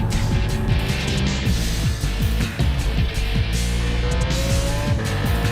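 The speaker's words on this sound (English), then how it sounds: "You hear I believe it's the engine from the Z4 GT3 car tossed into that E46 M3." A BMW E46 M3 race car fitted with the V8 engine from the Z4 GT3 races in a Challenge Series event, its engine loud and close as it revs up and down through repeated gear changes, with possible tire noise.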